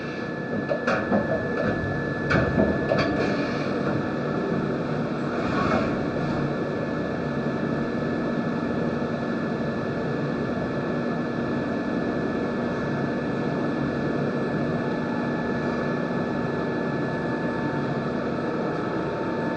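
A SPINNER VC850 machining center runs with a steady mechanical hum and whine, with a few sharp clanks and knocks early on before the sound settles into a continuous drone.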